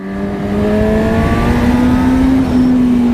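A Honda CB 1000 Hornet motorcycle accelerates hard in Sport mode, its engine note climbing steadily in pitch as it pulls through the revs, loud and close with a continuous smooth whine.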